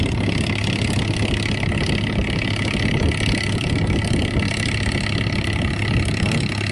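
A shrimp trawling boat's engine runs off the coast of Hon Tre island, a loud, steady throbbing drone close by and unbroken throughout.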